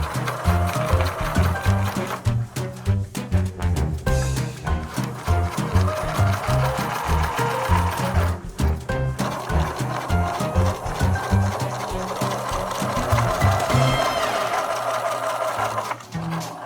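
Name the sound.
sewing machine sewing a logo onto a gym bench cover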